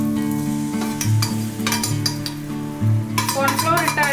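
Gobi manchurian sauce thickened with cornflour bubbles and sizzles in a pan with sautéed onions while a utensil stirs it in steady strokes, with occasional clinks, close and moderately loud.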